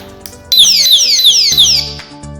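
A loud electronic alarm from a mobile phone security display stand sounds close by, repeating rapid descending sweeps in a piercing wail, then cutting off after a couple of seconds.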